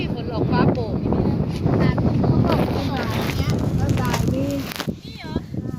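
Strong wind buffets the microphone in steady rumbling gusts at a red lettuce garden, with voices talking over it throughout.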